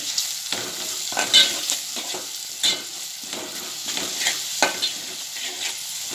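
Steady sizzling of masala frying in oil for a drumstick curry, with occasional soft scrapes of a spoon stirring the pan, close and continuous.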